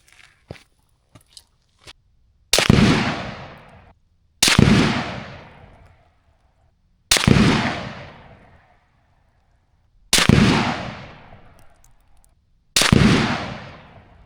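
.300 PRC rifle shots firing Berger factory ammunition ring out five times at a few seconds' spacing, each loud crack followed by a decaying boom, with faint clicks of the action handling before the first shot.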